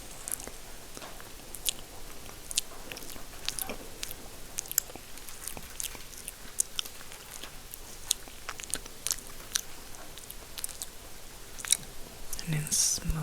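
Close, crisp crunching and crackling bursts of hair being chewed repeat irregularly over a quiet, hushed background, with occasional soft whisper-like noises.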